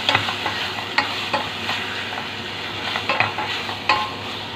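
Pork pieces frying in a pot for sinigang, a steady close sizzle with stirring scrapes and occasional clinks of a utensil against the pot, no voices.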